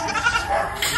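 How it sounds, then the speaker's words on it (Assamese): A single goat bleats close by, one wavering nasal call lasting about a second with a rising cry near the end. "সেইটো এটা ছাগলী আছে"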